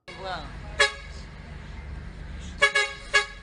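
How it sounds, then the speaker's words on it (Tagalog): A bus horn honks sharply several times in traffic on a busway, a short blast followed by a quick double toot, with someone talking over the road noise. "Ilang beses nang bumusina ang bus."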